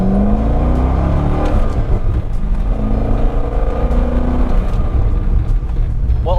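A warmed-up car drives along with a loud, steady engine hum and road rumble that rises and falls slightly in pitch, heard from inside the cabin.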